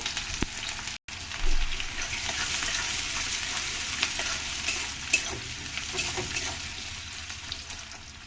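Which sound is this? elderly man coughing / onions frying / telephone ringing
onions frying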